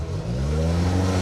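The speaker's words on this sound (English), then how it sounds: "Listen to that twin cam." A Ford Escort rally car's twin cam engine revs hard at a rally stage, a loud, close, steady drone with strong low harmonics and a slight clattering edge.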